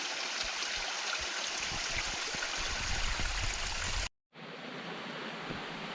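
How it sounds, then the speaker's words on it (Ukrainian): A mountain stream rushes through a ravine in the Carpathian forest, a steady, fairly close broadband roar of flowing water that briefly cuts out near the end before resuming. "Вода яку силу має який яр вирила."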